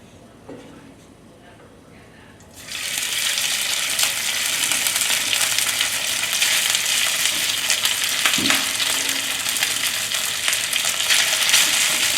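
Leftover sticky rice sizzles loudly in hot vegetable oil in a pan. The frying bursts in after a quiet start and then holds as a steady, close, crackling hiss to the end.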